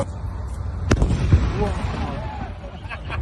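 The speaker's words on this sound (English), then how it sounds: "we're booming Gaza right now" Artillery fire directed toward Gaza, heard as a couple of deep booms in close succession amid a steady rumbling background, with voices talking nearby.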